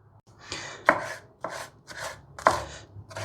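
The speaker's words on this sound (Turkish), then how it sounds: "Biberleri istediğiniz büyüklükte ve şekilde doğrayabilirsiniz." A knife chops through bell peppers on a cutting board, a series of distinct crisp cuts at an uneven pace, close and clear.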